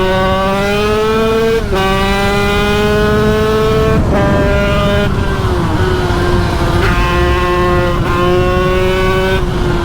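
A loud motorcycle engine roars and revs close by, its pitch climbing and dropping sharply between gear shifts.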